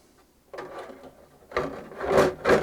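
A plastic Traxxas TRX-4 Defender body being pressed and slid onto its chassis: a quiet scrape, then louder rubbing and scraping bursts that build toward the end, close by.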